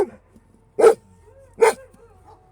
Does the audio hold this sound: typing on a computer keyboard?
no